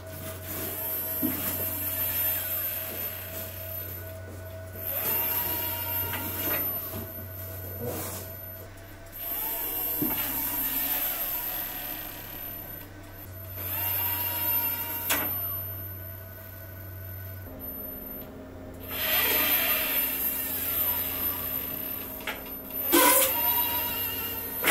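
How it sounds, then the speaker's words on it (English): A 49:1 cycloidal actuator drives a slim linkage shaft on a robot leg under stacked weights. Close, sustained motor whine shifts in pitch as the load changes, broken by bursts of gear grinding and sharp mechanical clicks, with no speech. "Can this slim linkage shaft handle the full torque of our 49:1 cycloidal actuator? Let's stack the weight and find out."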